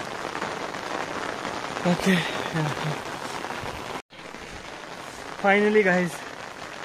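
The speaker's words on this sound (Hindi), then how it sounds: "और बारिश लगी तो आज शायद आपको आ रही अच्छे से ना हो तो" Steady rain falls during a mountain trek to a hilltop temple near Palampur, a constant close hiss under someone speaking briefly in Hindi and English.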